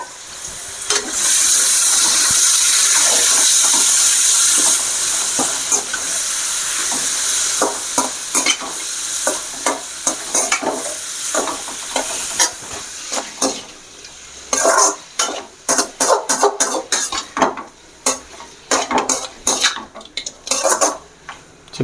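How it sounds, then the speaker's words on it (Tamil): Chicken sizzling in hot oil with curry leaves, a loud bright frying hiss at first, then repeated sharp clinks and scrapes of a metal spoon stirring against the pan in an uneven rhythm. "சிக்கனை அப்படியே இந்த எண்ணெயிலேயே வேகணும்."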